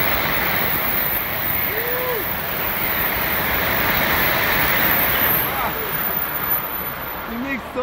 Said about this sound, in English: let's wait for the Shinkansen. Here he comes!